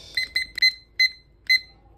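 A digital kitchen timer being set for 20 minutes gives a series of sharp, high electronic beeps, some single and some in quick pairs, spaced irregularly over two seconds against a quiet background.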